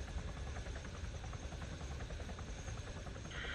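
Video game helicopter rotors, a steady rumbling chop with a throbbing low pulse and engine whine, loud and continuous, a higher tone entering near the end.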